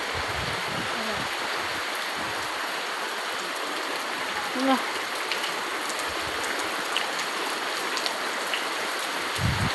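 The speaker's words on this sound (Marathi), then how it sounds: "आजसुद्धा खूप पाऊस पडलेला आहे आणि खूपच पाऊस पडलेला आहे" Heavy rain falls in a steady, dense hiss that runs unbroken throughout, loud and close, with faint scattered drips and bumps mixed in.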